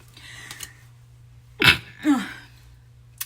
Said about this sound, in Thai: จามอีกแล้วเอ้ย